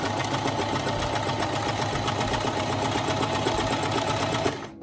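A sewing machine runs steadily, stitching the pleats of blazer fabric to its lining in a continuous, close-up whir with a rapid needle rhythm that stops abruptly at the end.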